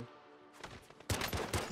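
A quick flurry of video game gunshots, several sharp bursts crowding together after a quiet start, fairly faint.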